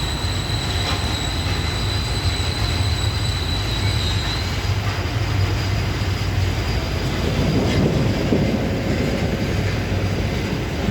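A regional train rolls into a station with a steady rumble and faint metallic squeal, wheels grinding louder near the end, with no voices.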